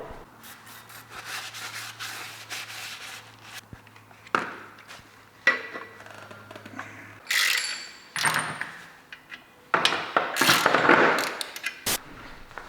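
Metal clutch parts for a BMW E36 being fitted by hand: a CC competition paddle clutch and 330d pressure plate set onto the flywheel, with scattered clanks, scrapes and ratcheting clicks, some sharp and loud, in a workshop.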